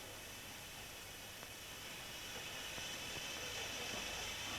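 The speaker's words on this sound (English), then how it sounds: "Water for the tea comes from these boilers, which are so designed that they always deliver water exactly at boiling point." Steady hiss of steam from a British Army cookhouse boiler that delivers water at boiling point, a continuous broadband rush held at an even, moderate level throughout with no talk.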